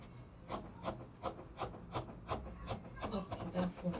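Scissors cut through fabric along a V neckline, making a quiet, steady run of rhythmic crisp snips about every quarter second.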